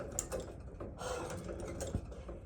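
A vintage long arm shoe patcher sewing machine stitching a custom cowboy boot gives off a steady mechanical clatter, with close ratcheting taps from the stepping feed running throughout.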